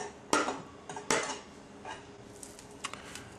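Diced celery dropped into a bowl already holding tomatoes and peppers for salsa, giving two sharp clatters close by followed by a few softer taps and light rustles.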